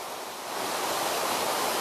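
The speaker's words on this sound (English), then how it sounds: "So we've got some nice waterfall here." A waterfall pours over rock carved into a curve, a steady broadband rushing roar that grows slightly louder and stays continuous and even, with no other sounds.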